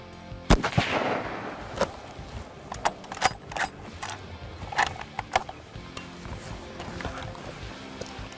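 A hunter's rifle fired at an animal: one sharp, loud crack early on, followed by rustling, clicking and handling noises outdoors.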